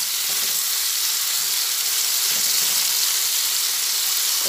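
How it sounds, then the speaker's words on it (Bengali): Tomato and ginger fry in hot oil while being stirred, giving a steady, loud sizzle and hiss throughout with faint scraping from the stirring. "সব একসঙ্গে ভালোভাবে একটু নাড়াচাড়া করে ভেজে নিচ্ছি।"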